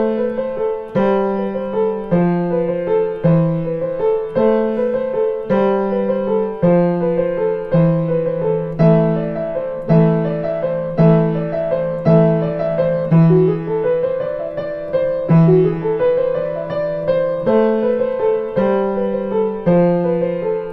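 Carol of the Bells played on piano at full speed, a brisk repeating four-note figure over steady low bass notes, clear and solo with no talking.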